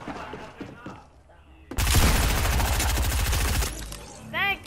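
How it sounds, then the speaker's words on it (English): A loud, rapid burst of SMG fire in a shooter video game, about two seconds of continuous automatic shots with a voice talking softly before it. "now I'm gonna have to kill him with the SMG, because I need an elimination"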